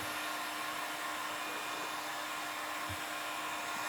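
Heat gun warming window film to shrink it on glass, a constant airy blowing hiss with a faint steady tone, moderately loud and uninterrupted.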